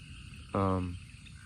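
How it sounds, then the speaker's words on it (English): Frogs croak outdoors in a single brief, loud harmonic call that stands out over a steady background of insect-like chirring. "There's a lot of frogs."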